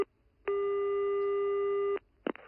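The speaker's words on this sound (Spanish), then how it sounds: "¿Me ha colgado usted el teléfono, señor?" Landline busy tone after the caller hangs up, a single long steady electronic tone of about one and a half seconds, loud and clear, followed by a brief burst of another sound.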